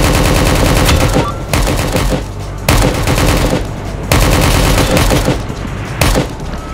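Sustained loud automatic gunfire in the shooter game Project Delta, several long close bursts separated by brief gaps, dense and booming throughout.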